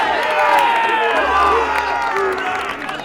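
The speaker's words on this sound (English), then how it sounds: "there was probably 200-300 people surrounding us, cheering us on" A crowd of roughly two to three hundred rugby fans around the Pontypool RFC team, cheering, whooping and shouting in a loud, dense, continuous roar that dips slightly near the end.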